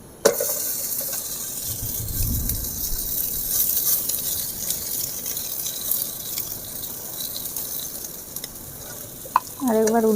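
A dal kulcha sizzles in ghee on a hot pan, giving a steady crackling hiss with a low scraping thump early on and sharp clinks near the end. Speech briefly overlaps the sizzle.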